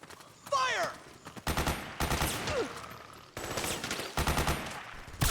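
Gunfire bursts in Metal Gear Solid 4 on PS3: several dense volleys of rapid shots in close succession, separated by short gaps, with shouted voices and swooping effects mixed in.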